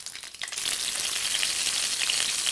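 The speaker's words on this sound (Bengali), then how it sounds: "যে তেলটা রয়েছে তাতে আমি পটলটা ভেজে নিচ্ছি" Sliced pointed gourd (potol) fries in hot oil left over from frying potatoes, giving a loud, steady sizzle that swells after a brief quieter start and then holds evenly to the end.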